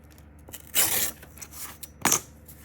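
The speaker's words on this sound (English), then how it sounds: "Okay, so I can cut it sort of here." Scissors snip twice through a thin book page for a junk journal craft, two short crisp cuts about a second apart, close and fairly quiet against a still room.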